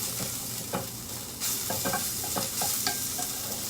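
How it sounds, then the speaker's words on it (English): Dried chilies and spices sauteing in a pan for Kung Pao chicken, a steady dry sizzle with scattered stirring scrapes and clicks, moderately close and alone without talk. "saute this. And it kind of makes like this dry kind of spice mix"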